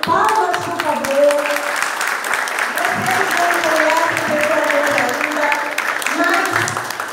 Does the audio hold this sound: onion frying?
no